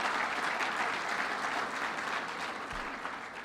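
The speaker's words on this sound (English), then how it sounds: "Let's give him a round of applause." A crowd applauds steadily for a county executive at a state budget presentation in Utica, a dense, even wash of clapping that fades slightly toward the end.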